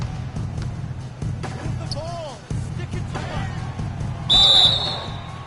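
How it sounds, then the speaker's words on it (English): A referee whistle shrieks sharply near the end of an NBA 2K basketball game featuring the Toronto Raptors, cutting above broadcast commentary, crowd noise and squeaking shoes. "So the whistle blows on the shot and 2 free throws for the contact right there."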